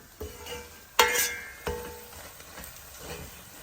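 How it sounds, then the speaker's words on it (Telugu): Chili powder, a hot Guntur variety, frying in oil for a prawn and okra curry, with a soft sizzle, a few sharp clinks and scraping stirs of a spoon against the pan, close by. "ముందు మనం కారం వేసుకున్నాం నూనెలో"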